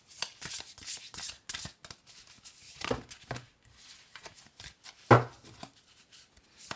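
A deck of Akasha oracle cards is shuffled by hand close up, with a run of quick riffling and flicking bursts and one sharper slap near the end.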